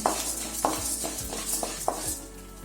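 Garlic, cloves and cardamom fry in a pan for a chicken curry while a utensil stirs and taps against the metal every half second or so over a soft, steady sizzle.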